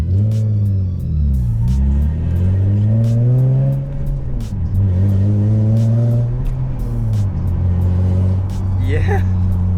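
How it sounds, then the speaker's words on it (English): Infiniti G35 coupe fitted with an aluminum single-piece driveshaft, accelerating hard through the gears on a road drive; loud, close engine revving that climbs and drops with each shift, steady cabin rumble throughout. "now we're gonna go on a test drive again."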